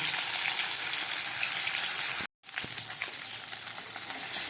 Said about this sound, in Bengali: এখানে আমি কিছুটা জ্যান্ত রুই মাছ আর এক পিস মাথা ভালো করে ভেজে নিচ্ছি